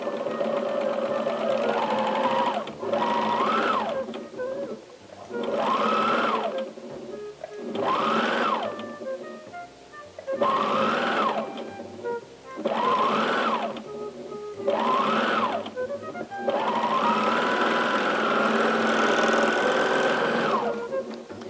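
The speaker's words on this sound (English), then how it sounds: "we'll just continue to sew these until all of them are sewn together" Domestic sewing machine stitching quilt strips together, running in repeated bursts of a few seconds each with short pauses between, then one longer continuous run near the end; close and steady, no talking.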